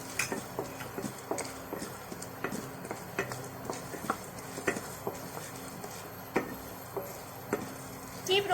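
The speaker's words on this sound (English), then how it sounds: "add the fried gram and dry roast it along with the urad dal" Fried gram and urad dal dry roasting in a pan, the dry grains ticking and rattling in a steady run of small clicks as they are stirred, close and moderately quiet.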